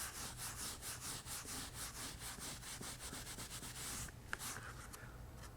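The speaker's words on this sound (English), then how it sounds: "So now I'll take a fresh piece of sheepskin after that's set just a minute like that, and I'll wipe that off like that." Sheepskin rubbed briskly back and forth over antique-finished leather, a steady rhythmic swishing in repeated strokes, close and fairly quiet, slowing and thinning toward the end.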